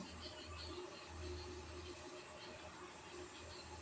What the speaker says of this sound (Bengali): এই দেখুন বনগাঁ থেকে আবার ট্রেন ছেড়ে দিয়েছে